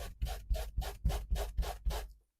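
Fabric with a ketchup stain treated with cleaning spray is rubbed in seven quick, even back-and-forth strokes, close and distinct, then stops abruptly.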